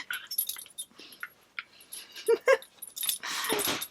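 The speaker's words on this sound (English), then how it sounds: "Mauled by a dog." Dog moving around indoors, giving a couple of short high whimpers amid rustling, collar or tag jingles and shuffling noises, close and fairly quiet.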